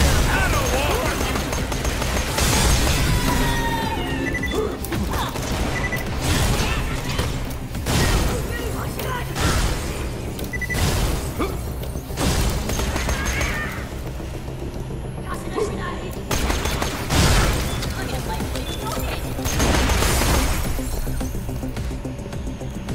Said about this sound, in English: The fuck is exploding around me?